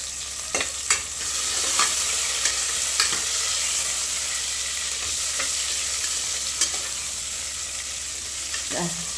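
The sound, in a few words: small onions and curry leaves frying in oil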